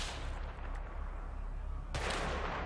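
Gunfire in the Battlefield 3 video game, a dense, loud rumble of shots and blasts running steadily through the clip with a sharp, brighter burst near the end.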